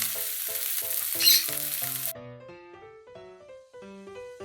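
Onions sauté in a pan for a ginisang labanos dish, giving a bright, loud sizzle over light background music for about two seconds before the frying cuts off and only the melodic music continues.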